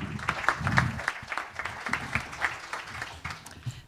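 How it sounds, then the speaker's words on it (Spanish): A modest audience at a book presentation claps for a writer and photographer, fairly quiet, uneven applause with individual claps audible and a low murmur underneath, tapering slightly toward the end. "Un fuerte aplauso para ella."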